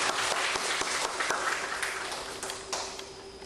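An audience claps for a senior schoolmate at a catering-group training camp: dense, bright applause with many individual claps, steady throughout and easing slightly toward the end, with no talking.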